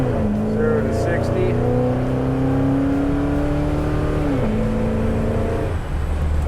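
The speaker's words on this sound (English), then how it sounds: "Wide open throttle." A car fitted with Holley EFI fuel injection pulls out into traffic and runs at wide open throttle, its engine note climbing in one long steady rise, then dropping briefly at a gear change before pulling again, loud and close.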